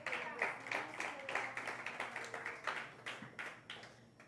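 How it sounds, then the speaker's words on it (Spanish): Congregation clapping in a church service, a moderately sized group with audible individual claps in a loose rhythm, fairly quiet and slowing toward the end. "Dale un aplauso al Señor"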